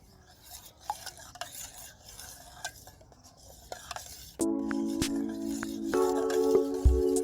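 Cardamom powder is stirred into a lassi mixture with a spoon, making soft, scattered scrapes and taps against the vessel. Partway through, a steady humming tone starts and grows louder to the end, with no speech.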